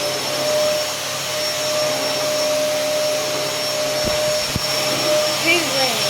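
A household vacuum cleaner runs loudly and steadily with a constant whine and broad hiss, with a few brief bumps near the end as the nozzle moves.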